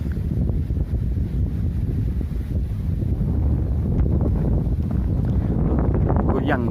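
Strong gusts of wind on Mount Bromo roar steadily into the microphone, a loud continuous low rumble with buffeting throughout and no clear voices.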